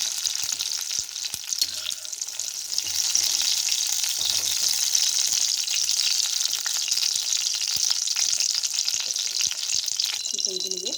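Chopped tomatoes sauté in hot oil in a pan for a mint and tomato chutney, a steady close sizzle broken by scraping stirs of a spoon, then a brief clink near the end.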